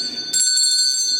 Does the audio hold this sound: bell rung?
yes